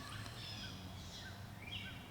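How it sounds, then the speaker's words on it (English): Faint birds chirp and sing in the open air, short scattered calls over a steady background hush. "Listen to those birds."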